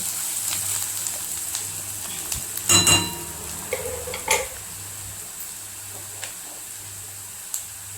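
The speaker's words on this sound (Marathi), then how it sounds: "व्यवस्थित असं परतवून घेऊया।" Brinjal being sautéed in a pan for Kolhapuri-style bharit, with steady soft sizzling and scraping stirs, a few sharper clinks of a spatula against the pan, and no talking.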